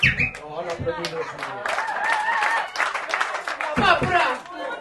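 A comedy club audience applauds with a dense, steady patter of clapping. It sounds close and lively, and talk and vocal sounds mix into it throughout.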